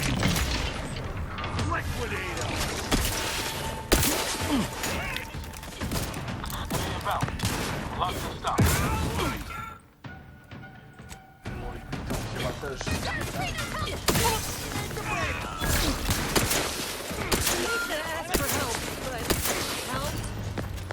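Rapid weapon fire in the sci-fi shooter The Outer Worlds 2, dense bursts of shots and mechanical clatter running almost continuously with a brief lull midway, loud and close, with a voice talking over it.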